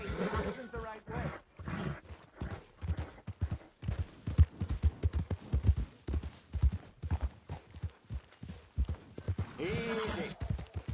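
Horse hooves clip-clop steadily in the Red Dead Redemption 2 video game, a rhythmic close beat under voices, with a horse's snort or whinny near the end.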